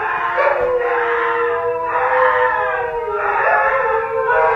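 Three huskies howl at home alone, long wavering howls rising and falling in overlapping waves, loud and close, with no talk.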